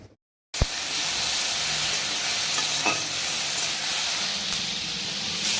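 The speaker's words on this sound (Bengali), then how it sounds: "আর এখানে তোমার মাছগুলো ভেজে নিচ্ছি, ঝাল করবো" Fish fries in oil in a pan, a dense steady sizzle and hiss that starts abruptly after a brief silence and continues loud and close throughout, with a light clink partway through.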